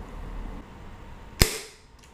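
A spring-piston airsoft sniper rifle fires a single sharp shot, one loud crisp crack after a quiet stretch, followed by a short fading tail.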